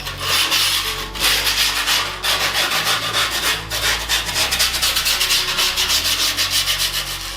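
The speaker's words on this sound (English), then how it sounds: "Just trying to sand it down and make it fully stick to the board." Sanding the edge of skateboard grip tape flush against the wooden deck, a loud close rhythmic rasping of repeated back-and-forth strokes with brief pauses.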